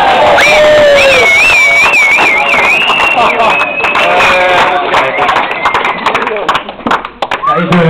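A crowd at an adult rap workshop during a world forum in The Hague cheers, whistles and shouts loudly and continuously as rappers come forward, with voices mixed throughout.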